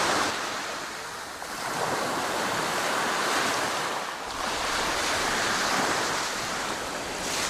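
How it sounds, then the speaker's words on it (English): Ocean surf breaking off an island in the Maldives where people go surfing: a steady, loud roar of waves with gusting wind across the microphone, swelling and easing in long surges with no voices. "At 47, Ubet rides the first wave of his life"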